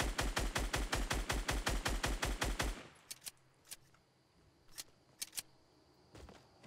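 Rapid automatic gunfire in Fortnite: Battle Royale, a loud steady burst of about fifteen shots that stops abruptly, followed by a few scattered sharp single shots at a distance.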